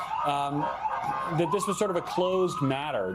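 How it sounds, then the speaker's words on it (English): Police sirens wail outside the White House, a rising and falling tone running steadily under a man's close, continuous speech. "if you'll excuse the sirens behind me as we are just outside the White House"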